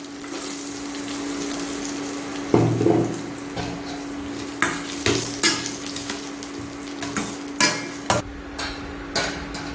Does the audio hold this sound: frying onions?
yes